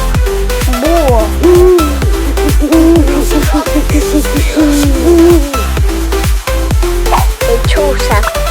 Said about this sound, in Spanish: Búho.